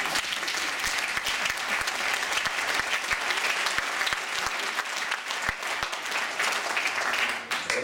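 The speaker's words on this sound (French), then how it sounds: "je pense qu'on peut applaudir la mairie" An audience at a big band concert applauds, and the sustained, dense clapping runs for several seconds, with individual sharp claps standing out close by.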